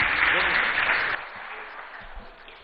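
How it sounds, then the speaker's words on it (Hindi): Studio audience applause for a guest at the close of a political interview, loud at first, then fading to scattered claps with faint talk underneath. "चाहूंगा एक बार जोरदार तालियां कैलाश सोनी जी के लिए।"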